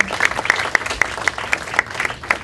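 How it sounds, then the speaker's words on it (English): An audience at a 2012 birthday party gives a round of applause for a guest, a dense, steady clapping close by with sharp individual claps standing out, and no voices over it. "please have a big round of applause for the Dr. Shosha."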